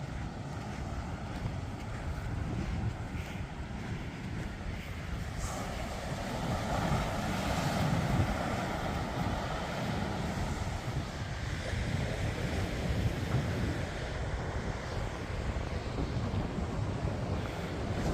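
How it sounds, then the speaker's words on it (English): Ocean surf and steady wind on a sandy beach, a continuous broad wash of waves with wind buffeting the microphone throughout, no speech. "Nothing like the ocean."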